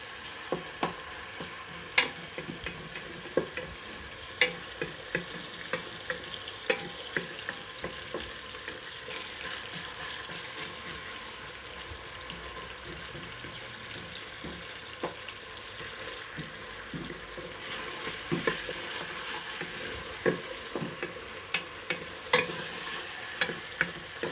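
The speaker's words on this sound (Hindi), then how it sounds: "प्याज को हम ब्राउन करेंगे।" Onions frying and browning in a pan for a village-style moong dal, with a steady crackling sizzle and frequent sharp clicks and scrapes of a spoon stirring against the pan, no talking.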